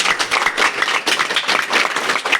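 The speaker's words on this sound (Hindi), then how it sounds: "मनु सर को एक संदार ताली करके होना चाहिए" An audience claps for Manu sir at a company gathering. The clapping is loud, close and fairly steady, full of sharp overlapping hand claps that swell and dip in bursts with no break.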